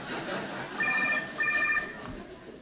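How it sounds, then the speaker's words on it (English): A cell phone rings in a room during a live debate, two short bursts of steady electronic ringing tones over a noisy hall background. "It's very disrespectful to have a gathering when a cell phone goes off."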